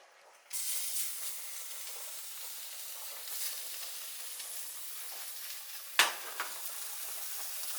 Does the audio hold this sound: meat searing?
yes